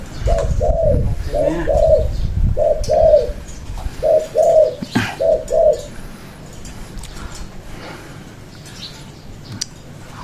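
Pigeons or doves giving a series of soft, rhythmic coos in short bursts, fairly close, over low background rumble, then fading into quieter ambient noise.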